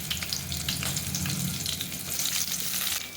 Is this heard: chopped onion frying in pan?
yes